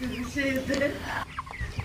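Broiler chickens cluck and murmur nearby in a short burst, with some background shuffling and a faint voice-like murmur.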